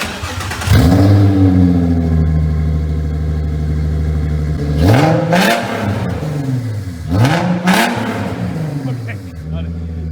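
A Nissan 350Z engine revs hard several times, rising and falling pitch in loud sweeping bursts over a steady idling rumble, close by, sounding like a motorbike.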